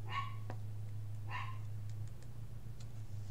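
A dog barks indoors, two sharp barks close by, heard alone over a steady low electrical hum.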